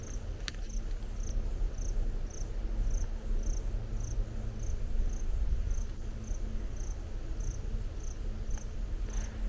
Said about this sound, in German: Wie der Wind durch die Bäume streift, und dann Grillen zirpen, ein paar Vögel im Hintergrund.